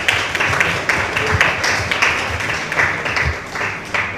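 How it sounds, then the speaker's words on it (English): Steady applause from an audience at an author event, a dense even wash of clapping that holds at a moderate level throughout. "So yes, everyone, a big round of applause"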